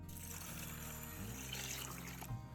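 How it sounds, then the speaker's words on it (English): Water splashes and trickles into a bowl as mung beans are swished around in it, a soft continuous wet sound close by. "place the beans in a bowl and rinse them with water"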